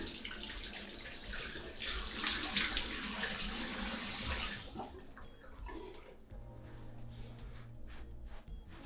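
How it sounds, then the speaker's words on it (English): Tap water running into a bathroom sink while someone rinses their face, a bright splashing rush for about four and a half seconds, then quieter drips and trickles as the flow is cut, close and alone. "splash it, let's rinse it off."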